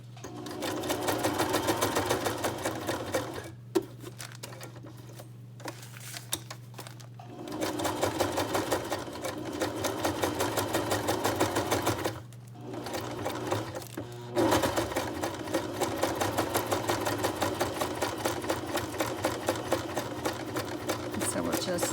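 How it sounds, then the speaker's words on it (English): Sewing machine running steady stitches around the flap of a mixed media junk journal storage pouch, a loud close rapid whirring that continues in long runs broken by short pauses, with speech mixed in at times. "And then we're just going to keep going around till we meet the other stitches that we made at the beginning."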